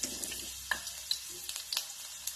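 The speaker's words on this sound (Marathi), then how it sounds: "तेल चांगलं तापल्यानंतरच त्याच्यामध्ये कांदा घाला" Chopped onion goes into well-heated oil for a pavta usal, giving a faint, soft sizzle dotted with scattered light crackles and pops, quiet and close.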